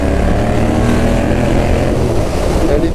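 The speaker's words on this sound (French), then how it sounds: "première vidéo embarquée sur YouTube à bord de ma petite MT-07 Night Fluo" Onboard ride on a restricted Yamaha MT-07 Night Fluo motorcycle: a steady, loud engine drone mixed with heavy wind rush against the microphone, continuous throughout.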